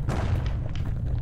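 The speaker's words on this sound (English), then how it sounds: "Alright, let's use my grenade." A grenade detonates in the game Bastion, a heavy, close boom with a deep low rumble that fills the short moment.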